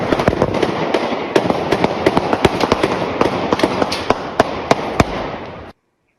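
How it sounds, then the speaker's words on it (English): Rapid gunfire erupts on a city street, dozens of sharp cracks in an irregular volley over a noisy crowd background, captured up close on a phone, then stopping abruptly into silence. "Then you hear gunfire."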